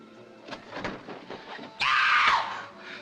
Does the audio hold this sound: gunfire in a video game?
no